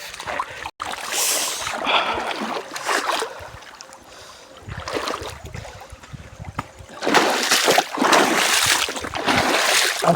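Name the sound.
Kosni river stream flowing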